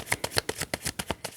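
Tarot cards are shuffled briskly by hand in a rapid series of close, crisp riffling snaps, about a dozen soft flicks in a steady rhythm with no voice.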